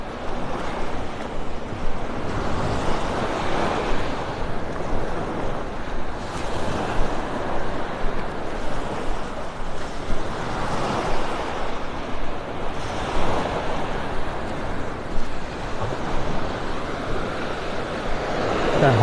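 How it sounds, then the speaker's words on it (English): Ocean waves roll in and break on a beach in North Naples, Florida, in slow repeating surges, with wind rushing across the microphone throughout. "Kind of hard to hear over the sounds of the waves"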